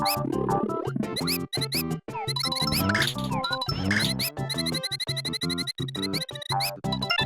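A mouse-squeak sound effect used for Yoshi's footsteps in the platform game Yoshi's Island, quick repeated little squeaks scattered through loud, busy chiptune music with chimes, no talk.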